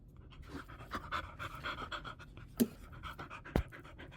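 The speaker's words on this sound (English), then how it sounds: "That heavy breathing is not me. That is Poppy." A dog pants heavily and rapidly up close, with a couple of sharper clicks or knocks in between.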